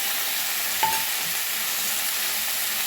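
Vegetables fry in a pan with chili and garlic just added. A steady, even sizzle carries through the whole clip, with one brief ringing clink near the start and no talking.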